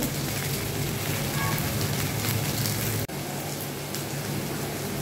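Oil spattering in a hot pan while stuffed pointed gourd fries for a Bengali potoler dorma, a dense crackling sizzle throughout with a brief dropout near the end, close and loud.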